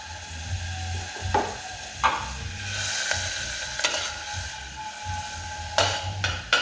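Garlic fries in a pan with a low, steady sizzle, broken by several sharp metallic scrapes and clicks of a utensil against the pan, close by and without talk.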